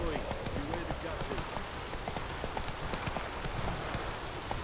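Roach the horse gallops in The Witcher 3, a steady, rapid run of hoofbeats that continues throughout over a constant patter like falling rain.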